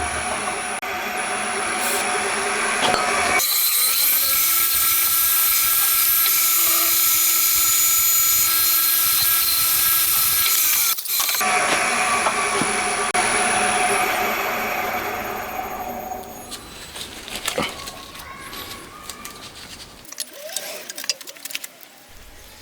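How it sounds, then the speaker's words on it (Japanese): A drill press or machine spindle bores holes in a metal rocker arm for a twin-cam 16-valve four-cylinder engine, first with a center drill, then a drill, a loud steady high whine that stops briefly, resumes and fades out. "まずはいつものようにセンタードリルで穴を開けて、その後ドリルを通していきます。"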